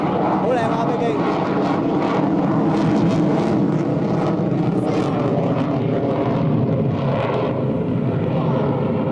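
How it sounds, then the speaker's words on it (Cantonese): A fixed-wing airplane flies over at an air show, its engine drone loud and continuous for the whole stretch, with spectator voices mixed in beneath the roar. "好靚啊飛機！"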